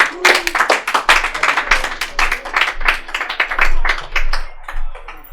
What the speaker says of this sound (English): Give a round of applause, everybody, for KJ Whitehead.